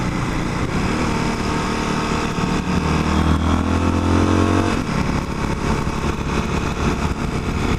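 Motorcycle riding over a flyover in Hong Kong, with a steady, loud engine drone and broadband wind and road noise throughout. The engine note rises briefly midway, with no one speaking.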